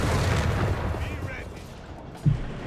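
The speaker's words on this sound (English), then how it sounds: "Grenades are being launched. Flung through the air." Grenades explode in the Company of Heroes 3 strategy game as a low, dull rumble of battle noise. It ends with one sharper boom near the close.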